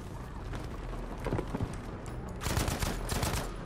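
Rapid bursts of automatic gunfire in a Battlefield 5 multiplayer match, dense and rattling, growing louder and heavier toward the end with no talk over it.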